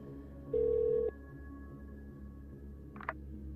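A telephone in the game Orwell giving a single steady electronic ring tone for about half a second, followed by a brief faint chirp, quiet background, no talk.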